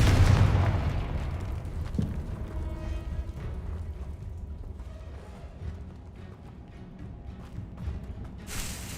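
Confringo fire spell blast in the video game Hogwarts Legacy, a loud booming explosion at the start that rolls into a long rumbling decay with scattered crackles, then a brief bright burst near the end.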